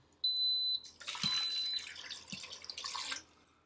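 Tap water runs and splashes into a cooking pot in a kitchen, a steady, fairly close gush with a thin tone at the start and brief knocks, no voices.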